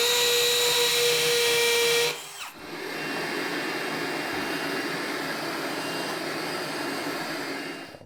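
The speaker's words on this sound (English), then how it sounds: "change bits to a concrete bit." A power drill fitted with a concrete bit runs with a high whine, then bites into the floor beneath the flooring with a loud, continuous grinding roar that lasts several seconds.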